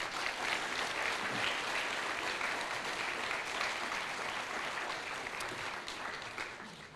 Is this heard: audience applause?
yes